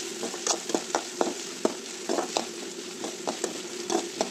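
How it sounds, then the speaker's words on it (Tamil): Onion, curry leaves and red chili sautéing with mustard seeds in hot oil, a constant sizzle broken by repeated scraping spatula strokes, close and moderately loud, with no talking. "வெங்காயம், கருகப்பில், வரமிளகா எல்லாத்தையுமே போட்டுக்கலாம். போட்டுட்டு நல்லா வதக்கிக்கலாம்."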